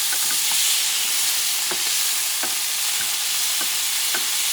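Black-eyed peas and duck giblets stirred in a hot pan: a continuous loud sizzle with regular scraping strokes of the spoon against the pan, close and with no talk.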